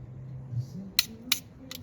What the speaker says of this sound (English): See, the sounds is different, it's like tick tack like that.